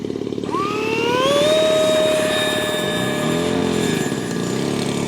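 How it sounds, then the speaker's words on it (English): A HobbyKing F35 70mm electric ducted-fan RC jet with a 3D-printed fan upgrade spools up to a loud, rising whine that levels into a steady high-pitched roar, then shifts slightly as it takes off on its maiden flight. "So this is the maiden flight of this F35"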